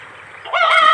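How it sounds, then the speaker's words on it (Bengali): Native hens with a brood of fifteen newly hatched chicks; a faint background hum gives way halfway through to loud, close clucking and calls with harmonic, honk-like tones. "দেশি মুরগির বাচ্চা রয়েছে।"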